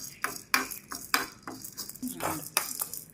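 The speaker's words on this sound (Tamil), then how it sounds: "லேசாக வதக்கினா போதும்" Dry red chillies being stirred and sautéed in a pan for kuzhi paniyaram, with a spoon clinking against the metal in a few sharp, uneven scrapes over a faint sizzle.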